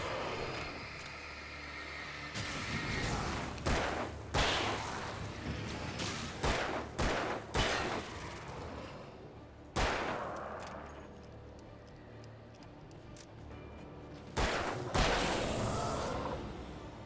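Gunfire in the video game Alan Wake, a series of loud sharp shots in bursts and single cracks spread across the stretch, with rumbling game ambience between them.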